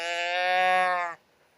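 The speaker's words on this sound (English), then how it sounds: "It sounds like a sheep, doesn't it?" A toy gives out a single sheep-like bleat, a loud, close, wavering tone lasting about a second before cutting off into near silence.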